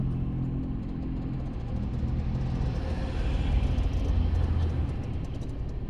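A car moving off slowly during a driving lesson, its engine giving a steady low rumble that swells a little midway, close by and with no talk over it.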